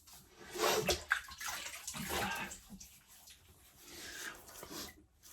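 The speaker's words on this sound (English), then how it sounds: "Just wet the face a little bit." Water splashed onto the face with the hands before a wet shave, a few soft irregular sloshes and drips close by at the sink, fairly quiet with no talking.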